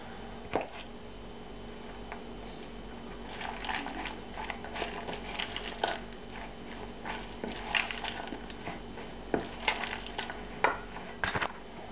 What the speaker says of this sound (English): And these get mixed together, as well as the hoisin sauce.